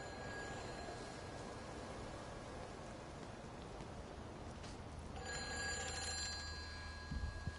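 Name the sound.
telephone ringing in a video game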